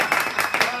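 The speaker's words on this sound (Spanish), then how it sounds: "Aplausos." Brief burst of audience applause on a Spanish-language TV show, a few quick pulsing swells of clapping crowd with voices mixed in, lasting under a second.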